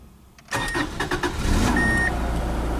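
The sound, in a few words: 1995 Subaru Legacy engine starting after fuel pump replacement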